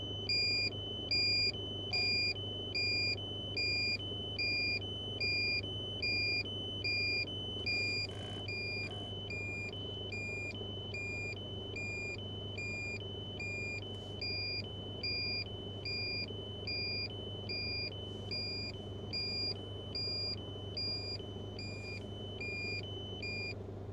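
Repeated electronic warning beeps from a camera drone flying close to an erupting volcano in Iceland, a steady series of high tones over a low constant motor hum, with no talking.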